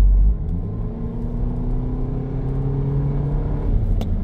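VW Polo 6 GTI engine pulling hard in fifth gear from low revs, a steady deep rumble and drone with rising harmonics throughout, close and continuous, no talking.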